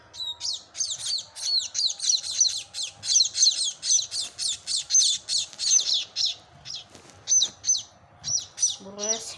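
Baby emprot birds chirping close up, a quick series of high, thin, repeated cheeps in rhythmic bursts, with faint background voices and a brief lower noise at the end.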